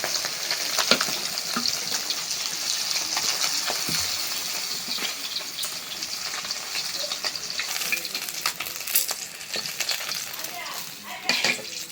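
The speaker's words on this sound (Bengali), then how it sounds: "হয়ে গেল মাছ ভাজা" Fish seasoned with salt, turmeric and chili powder frying in oil in a pan, a dense, continuous sizzle held close and steady throughout, with occasional utensil clinks and stirring noises over it.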